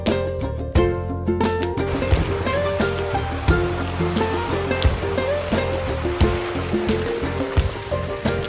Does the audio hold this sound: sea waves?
yes